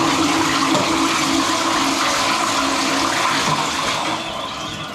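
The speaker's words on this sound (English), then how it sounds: "Then the toilet, which the flushing is like so intense." An intense, loud toilet flush on a train arriving in Rome, a sustained rushing and roaring of water that holds steady for several seconds and then begins to fade toward the end.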